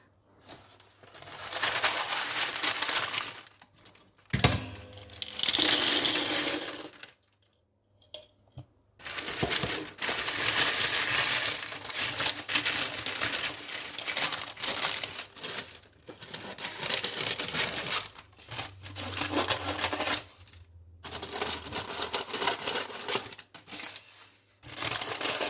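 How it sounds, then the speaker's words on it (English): Ceramic baking beads pour onto greaseproof paper lining a pastry case in repeated bursts of dense, rattling clatter and paper crinkle, broken by short pauses, close and fairly loud with no talking. "line it with greaseproof paper and use my baking beads to really help the pastry stay flat"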